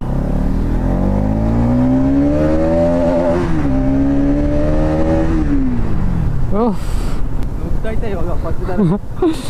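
A motorcycle engine, just back from a fuel injector repair, revs up loudly and holds a high droning pitch, dips, climbs again, then winds down, with voices talking afterward.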